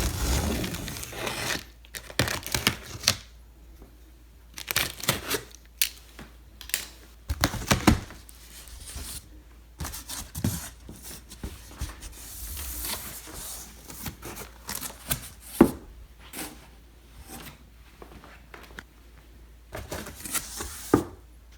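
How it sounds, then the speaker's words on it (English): An X-Acto knife slices open the cardboard box of a 36-inch Frigidaire cooktop, giving close, irregular bursts of scraping, tearing and crinkling packaging with quiet gaps between them. "grab an X-Acto knife and don't cut too deep."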